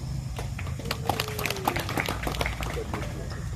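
Scattered, uneven clapping from an audience at a government inauguration ceremony in Mamasa continues steadily at moderate loudness, with a voice heard over it.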